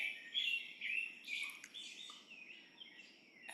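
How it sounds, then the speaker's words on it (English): Small birds chirp and twitter outdoors, a close cluster of bright repeated calls and short warbling phrases that fade toward the end over a quiet background. "those birds that are chiming in on what their opinion is as well"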